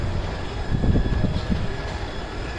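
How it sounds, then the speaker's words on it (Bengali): A tram arrives at a street-side station in Switzerland, a steady low rumble of wheels and motor building gently near, with no voices. "দেখো ট্রাম আসছে, একটা ট্রাম স্টেশন"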